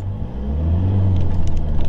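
A Mitsubishi Triton engine in low range hums with a steady, loud low rumble that swells slightly as it revs, with no voices over it.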